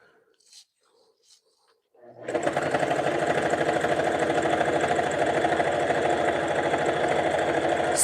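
Sewing machine stitching jelly roll rug strips starts after a few faint sounds, then runs continuously with a steady, close mechanical whir and rapid rhythmic needle chatter to the end.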